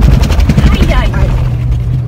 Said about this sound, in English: That's a dune buggy